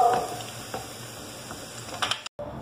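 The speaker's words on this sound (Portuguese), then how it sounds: "Pessoal, o bacon, ó, ficou fritinho." Bacon frying in a pan, a continuous close crackling sizzle with scattered pops and stirring clicks, briefly cut off near the end.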